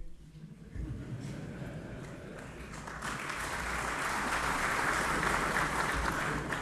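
Applause from a parliamentary audience in the Moroccan Parliament during a presidential address, a dense crowd clapping that starts moderate and swells fuller and louder, sustained throughout.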